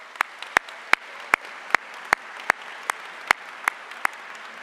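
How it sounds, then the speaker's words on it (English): A sparse, spaced-out round of applause from a small group of students at a Luther College welcome event, about a dozen distinct claps landing at a loose steady pace over a low background hum. "Give yourselves a round of applause."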